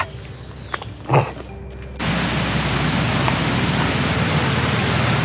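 Erawan waterfall at its first tier rushes as a steady, loud broadband roar that swells abruptly a couple of seconds in and then holds unbroken, after a quieter stretch with a few faint knocks.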